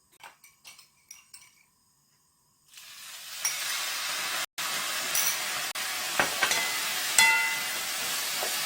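Walnuts being stir-fried in a pan for a Korean side dish: a few light taps and clinks, a brief silence, then a steady loud hiss of sizzling with scattered stirring scrapes and clicks.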